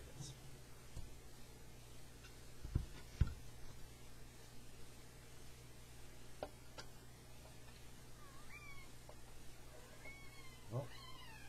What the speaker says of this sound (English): we got two cats in here now